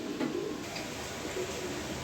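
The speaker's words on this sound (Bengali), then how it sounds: "দেখেন এখানে আরও 1 পেয়ার ব্লুবার কবুতর দিলাম" Blue bar racing pigeons coo softly in low, throaty murmurs, close but quiet, over a steady background hiss.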